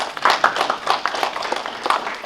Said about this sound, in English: I want you to clap, not for me